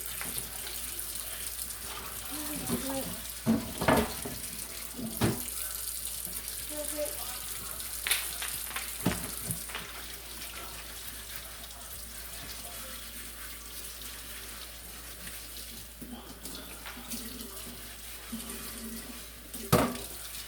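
Hot tap water runs steadily into a sink while a cast iron pan is scrubbed without soap, with scattered scrapes and clunks over the continuous flow.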